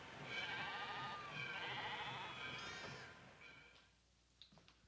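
Sheep held before slaughter bleat in a quiet outdoor scene: several wavering, drawn-out calls in a row, fairly faint and distant, fading into low background noise with a few small knocks near the end.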